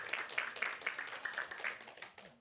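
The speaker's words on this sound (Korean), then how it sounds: "박수 한번 보내주시면 감사하겠습니다." A Korean church congregation claps during a Sunday service, a fairly close, steady patter of many hands with uneven bursts running through the whole stretch.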